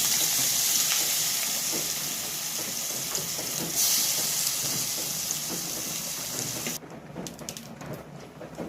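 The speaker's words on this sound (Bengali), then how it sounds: "প্রথমে আমি চিংড়িটা ভেজে নেব।" Prawns frying in a hot pan give a steady, dense sizzling hiss that suddenly drops to quieter crackles near the end.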